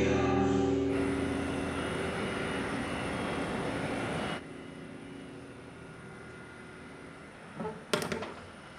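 Steady roar of an airplane in flight fills the cabin, a broad even hum that drops abruptly to a softer drone halfway, followed by a few faint clinks near the end.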